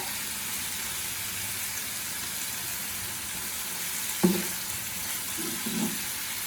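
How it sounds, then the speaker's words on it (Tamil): Vanjaram dried fish thokku frying in a pan, giving a steady, even sizzle throughout, with a couple of brief stirring scrapes toward the end. "அதுக்கப்புறமா நல்லா ஃப்ரை பண்ணிக்கோங்க."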